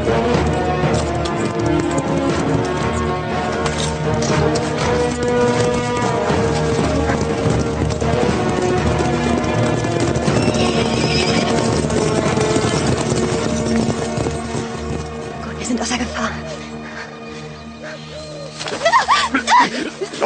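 Horses clatter off at a run as mounted archers set out, hooves clip-clopping densely and continuously, fairly loud, with scattered bird coos and brief vocal noise, fading somewhat toward the end.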